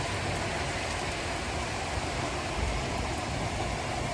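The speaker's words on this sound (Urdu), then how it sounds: "مگر ان کا پانی اس طرح کا ہی ہے بارش کا۔" Steady rain falls outdoors during the first winter rain in Italy, a continuous dense hiss of drops on surfaces, fairly loud and even throughout with no voices.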